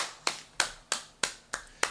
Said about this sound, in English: give a round of applause to Andy N.